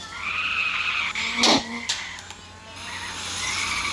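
A car in a racing video game drifts with a loud, sharp tire skid squeal rising in the middle, set against a steady engine whine that continues before and after.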